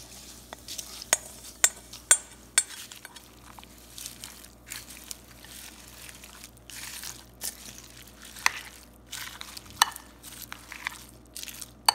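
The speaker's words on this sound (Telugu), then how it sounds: "ఇప్పుడు తాలింపుని యాడ్ చేసుకుంటున్నాము." Tempering is added to ivy gourd chutney and stirred in, giving scattered sharp scraping knocks and wet stirring sounds against a quiet background, with no talk.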